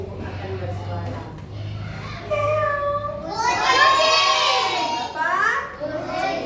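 A woman teacher in a classroom imitates a cat's meow with her voice, a few rising-and-falling vocal mews, while children's chatter and voices fill the room around her.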